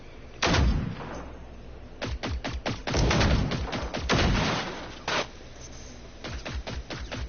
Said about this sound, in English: Quick, use the 50 caliber rifle.